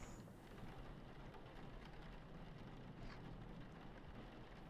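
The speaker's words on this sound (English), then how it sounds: "Oh, it's raining." Steady rain falls in a video game, a dense even hiss with faint rumbles underneath, continuous and moderately quiet with no voices.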